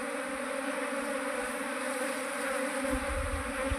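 Steady insect buzzing from a honeybee swarm being coaxed into a wooden box, a continuous close drone with no talk over it.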